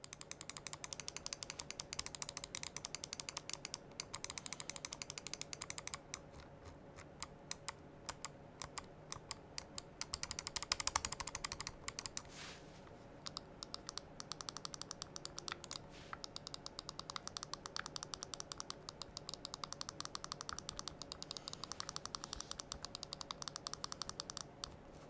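Close, rapid clicking of HyperX Pulsefire Haste Wireless gaming mouse buttons, a dense, irregular stream of sharp clicks that runs almost without pause, with no voices.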